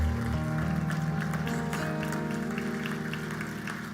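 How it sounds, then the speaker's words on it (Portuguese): A church congregation applauds in a steady, dense wash of clapping that holds for several seconds and slowly fades, with organ or keyboard tones sustained underneath. "Poder sentar e aplaudam a palavra do Senhor."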